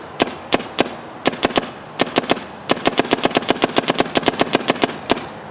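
Sharp, distinct pops from a Dye M3+ paintball marker fired semi-auto, irregular single shots at first, then quickening into a rapid run of close, loud reports, with no talking.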